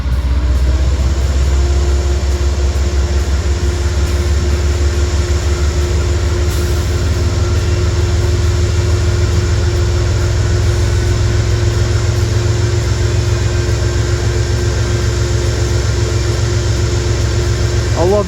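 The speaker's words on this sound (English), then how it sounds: "she's starting the engines up right now" A New Haven diesel locomotive idles at a fueling spot after its engines start, giving a loud deep rumble with a steady throb, and a voice talks over it.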